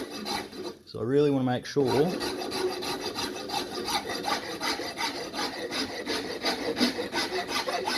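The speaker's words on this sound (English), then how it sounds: "I'll probably swap to a file and a Farrier's rasp" A file and farrier's rasp work over a wooden take down sleeve in steady, rhythmic back-and-forth rasping strokes, close and continuous, with someone speaking briefly over the start.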